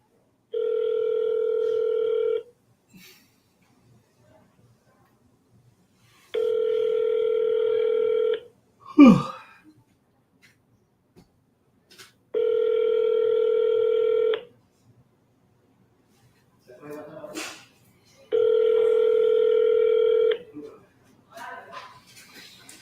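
An outgoing telephone call rings while waiting for an answer: four evenly spaced ringback tones sound alone, each lasting about two seconds with long gaps between them. Brief handling knocks and shuffles fall between the rings.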